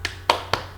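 Three sharp claps from a class doing a spirited clapping chant, spaced roughly a quarter second apart, close and fairly loud with no talk over them.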